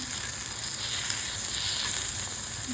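Batter sizzles steadily in hot oil on a flat tawa griddle, a continuous close, even frying hiss with no speech over it.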